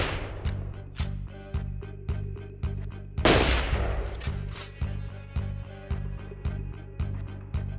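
Gunfire from the video game Long Gone Days: a steady series of punchy shots at roughly half-second intervals, with one heavier, louder blast in the middle, and no talking.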